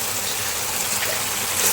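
Mint leaves in a pan release their water, producing a continuous, fairly loud broadband watery hiss with no pauses.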